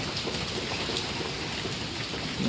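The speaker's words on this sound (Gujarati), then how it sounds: "આજે વરસાદ ચાલુ થઈ ગયો મિત્રો હમણાં" Steady rain falling outdoors, a dense continuous hiss of drops pattering on surfaces, even and moderately loud throughout, with no voices.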